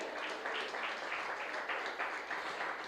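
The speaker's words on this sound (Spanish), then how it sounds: "Si lo crees, dale un fuerte aplauso al Señor." A church congregation applauding steadily, a dense wash of many hands clapping at once, sustained without a pause and fairly loud.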